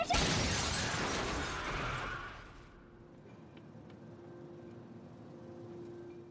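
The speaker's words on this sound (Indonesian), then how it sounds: "mobil mereka berputar dan hancur" A car spins out and crashes in a movie scene, a dense burst of crunching, shattering impact noise that fades after a couple of seconds into a low lingering rumble.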